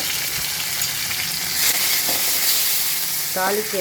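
Close, continuous sizzling of mustard seeds, cumin, fenugreek, asafoetida and curry leaves frying in hot oil for sambar tempering, crackling and hissing steadily, with a faint voice briefly in the background.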